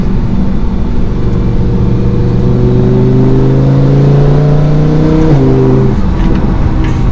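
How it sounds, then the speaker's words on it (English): Naturally aspirated engine of a rear-wheel-drive Lamborghini Huracan EVO heard loud inside the cabin, its tone rising steadily under acceleration before a sudden shift, then settling lower. "And you get so many nice naturally aspirated engine noises inside this cabin."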